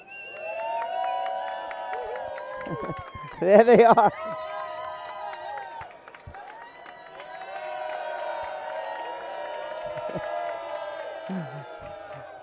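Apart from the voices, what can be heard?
crowd cheering at a racquetball final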